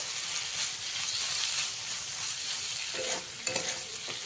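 Chichinga (ridge gourd) frying with chili powder in a pan while being stirred, a steady close sizzle and hiss with soft scraping strokes, a few sharper clinks near the end.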